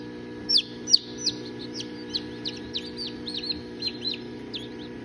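Newly hatched pheasant chicks peep in high, thin chirps, scattered and repeated at close range over a low steady hum, with no talking.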